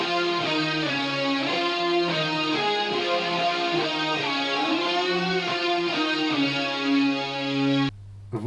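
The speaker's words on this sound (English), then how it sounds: "4 layers of guitar." Four layered electric guitar solo tracks with effects, including left and right parts and a lower octave, playing a distorted, chorused sustained melodic line loudly and continuously, cutting off abruptly near the end.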